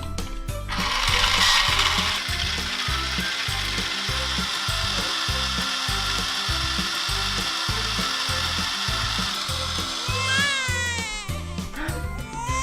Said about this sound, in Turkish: Blender'ı çalıştırabilirim.